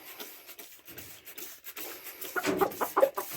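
A rooster in a poultry yard gives soft, scattered clucks, growing louder and busier toward the end, with rustling close by.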